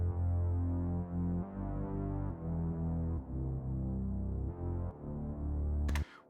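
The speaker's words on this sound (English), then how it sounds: "there is one low synth that actually was compressed." A compressed low synth played solo, a thick, steady bass-heavy tone with even loudness and rhythmic pulsing notes, close and alone, cutting off abruptly near the end.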